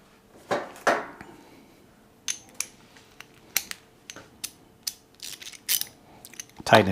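Short, sparse ratchet clicks come in small bursts as a bolt is run in on a 2018–2023 Honda Goldwing during a trim install. The clicks are close and fairly quiet, with gaps between strokes.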